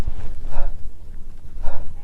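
A voice imitates a breathy h-like fricative, like panting: two soft airy exhalations, each about a quarter second long, spaced roughly a second apart, with no other sounds around them.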